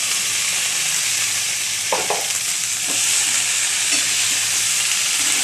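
Malabar spinach tipped into a pan of spice paste that was fried with panch phoron and onion, giving a loud, steady close sizzle with a few soft stirring knocks throughout.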